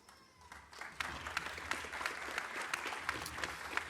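Applause from a small crowd, starting softly and swelling into steady clapping, moderately distant.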